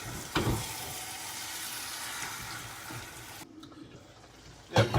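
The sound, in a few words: goat curry cooking in oil and ghee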